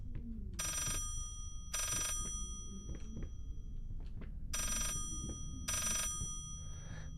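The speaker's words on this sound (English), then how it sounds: "just sounds very distinctly like a an old-timey telephone ringing in reverse" An old-timey telephone rings in reverse in the Layers of Fear video game, two pairs of short, bright ring bursts separated by a pause, fairly quiet over a low rumbling background.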